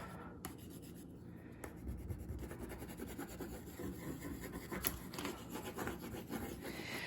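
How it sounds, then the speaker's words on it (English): A dark green crayon rubbed across paper for a kids' holiday craft, with quiet continuous scratchy strokes close by and a few sharper taps between them, no talking. "I have a dark green crayon now."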